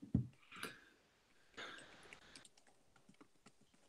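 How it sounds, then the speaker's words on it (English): Quiet, scattered keystrokes clatter on a computer keyboard in short irregular bursts, close by and fairly soft. "I can hear you typing."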